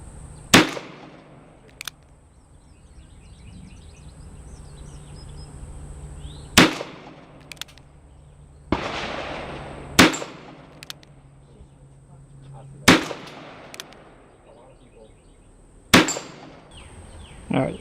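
A .32 H&R Magnum revolver fires 3.3-grain Red Dot loads with 85-grain powder-coated round-nose bullets outdoors, with six loud sharp cracks spaced a few seconds apart and faint sharp snaps between them over a quiet background.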